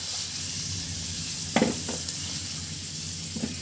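Potatoes frying in oil for egg biryani, a continuous sizzle close up with a few sharp utensil scrapes and taps against the pan.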